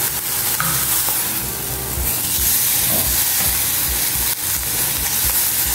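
Beef steak sears hard in a Tramontina frying pan, a loud close sizzle and hiss that runs steadily throughout with occasional scraping stirs, and nobody talks.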